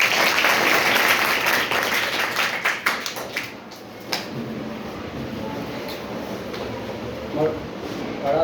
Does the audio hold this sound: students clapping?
yes